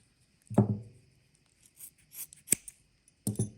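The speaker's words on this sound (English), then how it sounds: "Or you can use the scissors." Scissors snip through the woven nylon sheathing on servo wire in a few sharp, close cuts, with quieter rubbing and handling between them in an otherwise quiet room.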